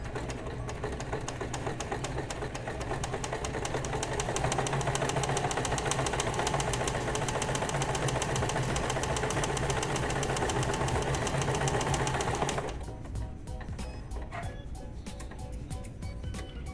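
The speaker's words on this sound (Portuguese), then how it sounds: "Então, nós temos o zigue-zague batendo bem na pontinha da margem da costura" A sewing machine runs a zigzag stitch along the edge of a fabric seam allowance, a steady rapid mechanical chatter that stays loud and even for about twelve seconds before cutting out, leaving quieter handling and background noise.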